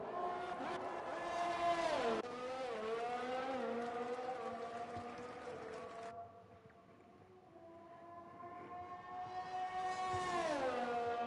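Formula 1 race cars at the Japan round of the F1 2020 video game, their high engine whines rising and falling in pitch as cars pass and shift gears, in a continuous roar with no commentary.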